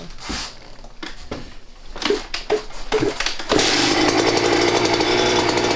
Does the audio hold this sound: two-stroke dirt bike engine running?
yes